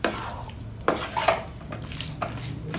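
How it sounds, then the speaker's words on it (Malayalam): Chicken chukka masala being stirred in a pan: close, soft scraping and clinking strokes at an irregular pace over a quiet low hum. "നന്നായിട്ട് മിക്സ് ചെയ്യുക മസാല."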